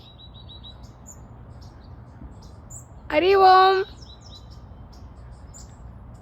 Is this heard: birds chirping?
yes